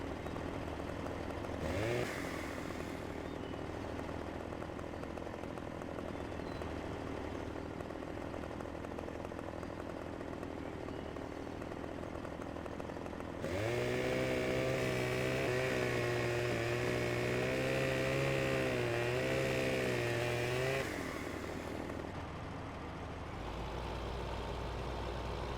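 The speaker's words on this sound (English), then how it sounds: "Do I have a chainsaw? I do have a chainsaw." A chainsaw in Farming Simulator 2015 idles with a low buzzing rattle, then revs up into a loud, steady high-pitched whine for several seconds before dropping back to idle.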